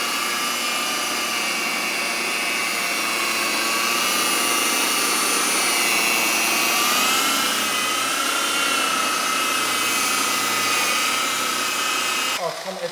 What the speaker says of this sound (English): why did this buffing wheel just cut through that?